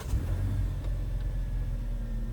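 A 2014 Korean-spec Hyundai Sonata engine idling steadily after a crankshaft position sensor replacement, a smooth low rumble held at even level throughout with no voices.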